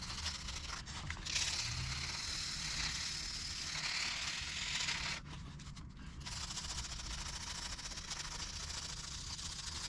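Wet sanding of boat gel coat by hand with 1500 grit sandpaper, a steady close scrubbing hiss that runs almost continuously, with a short pause around the middle.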